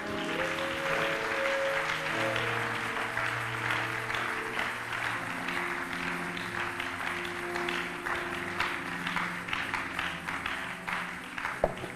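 A church congregation applauds and cheers in praise during a prayer service, with dense sustained clapping over held organ or keyboard chords for the whole stretch, no talk.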